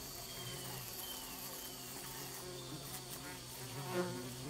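A steady insect buzz hums throughout, like bees droning close by, with a faint swell near the end and no voices.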